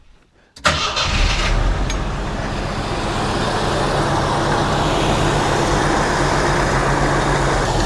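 A Jeep Scrambler engine with a freshly swapped carburetor cranks and catches, then settles into a loud, steady, rumbling idle close by.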